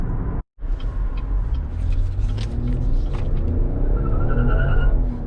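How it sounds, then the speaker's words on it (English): A 2020 GMC Acadia SLT with front-wheel drive briefly peels its front tires on pulling away, giving a rough broadband scrub over loud engine rumble and road noise after a momentary cut at the start. "Oh, it actually peeled a little bit there."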